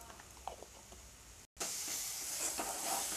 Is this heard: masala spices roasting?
yes